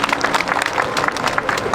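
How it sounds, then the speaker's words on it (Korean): An audience claps briefly to welcome a singer at an outdoor Catholic memorial Mass in Uijeongbu. The applause is short, dense and fairly close, with a scattered crowd texture. "큰 박수로 맞이해 주시기 바랍니다."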